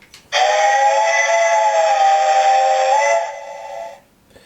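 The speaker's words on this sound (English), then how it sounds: "Long whistle." A Hornby TTS sound-equipped model of the steam locomotive Duke of Gloucester gives one long, loud, steady steam whistle that lasts about three seconds before fading into a short tail.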